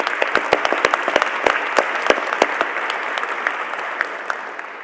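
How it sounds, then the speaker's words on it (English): Audience applause for the speakers at a ministerial summit during GEO Week 2023. A room full of people claps steadily at close range and fades slightly toward the end, with no speech over it. "One last round of applause for our speakers today."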